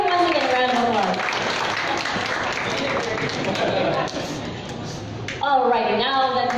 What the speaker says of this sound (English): let's give him once again a round of applause